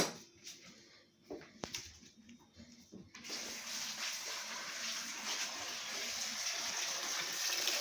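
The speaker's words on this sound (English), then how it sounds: "I'm just washing my mango." Tap water rushes over a mango being washed, faint trickles at first, then a steady loud gush close by.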